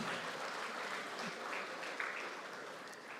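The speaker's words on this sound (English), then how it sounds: "Another round of applause, please." Applause from an audience at a Nigerian editors' conference, a steady dense wash of many hands clapping throughout, fairly faint and distant with no speech over it.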